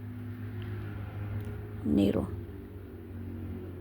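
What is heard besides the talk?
traffic from a busy street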